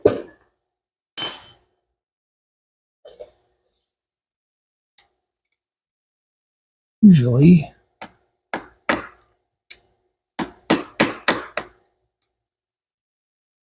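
A few sharp metallic taps from a small hammer during crank seal work on a Yamaha IT175K motorcycle, scattered at first and then a quick cluster near the end, close by with a brief spoken word early on.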